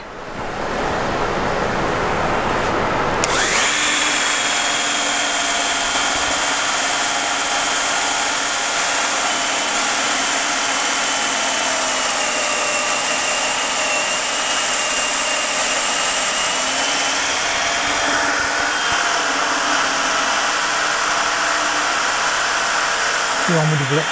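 A power drill fitted with a paddle bit bores into wood for a wine glass caddy, starting after a few seconds as a loud, sustained broadband whir that holds steady close to the microphone for about twenty seconds with slight shifts in tone.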